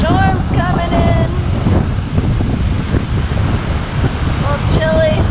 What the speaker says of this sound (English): Very windy all of a sudden.